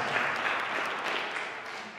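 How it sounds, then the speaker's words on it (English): Steady applause from a crowd at a Brooklyn community board meeting, dense and continuous clapping that tapers slightly toward the end, with no voices standing out. "Let's clap it up."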